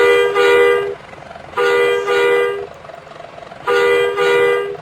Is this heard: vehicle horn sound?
yes